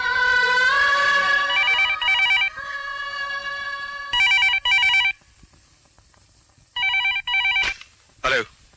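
An old-style telephone bell rings in repeated double bursts, loud and close, with pauses of quiet between the rings.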